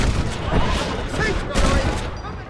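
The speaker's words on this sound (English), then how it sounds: "They're shooting right at me." Gunfire crackles in a Red Dead Redemption shootout near a bridge, dense repeated shots and bursts layered over a rumbling wagon ride, with voices talking through the firefight.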